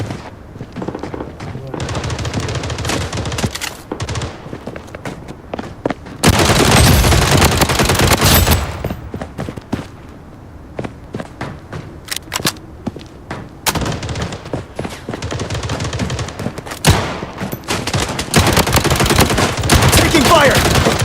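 Rapid automatic gunfire from a Blood Strike match crackles in loud bursts, with a dense sustained barrage midway and scattered shots around it, while a voice talks over the action.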